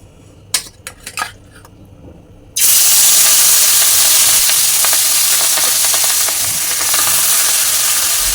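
Marinated rui fish goes into hot oil: a few light clinks of utensils first, then a sudden loud, dense sizzle that holds steady and close for the rest of the clip.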